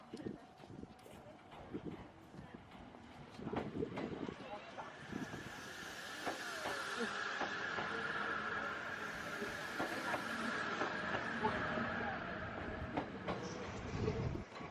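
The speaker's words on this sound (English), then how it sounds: "It's the slowest train in the world." Very slow train rolling along, a low steady rumble with occasional clicks and squeals, people chatting over it.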